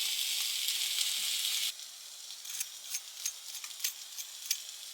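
Loud hissing sizzle of food frying in a pan, dropping abruptly to a quieter crackle with scattered small pops and clicks.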